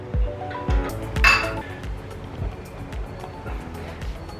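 Thai beef salad tossed in a bowl with chili flakes, giving light, irregular clinks and clatters of utensils against the dish, with one brighter clink standing out among softer knocks.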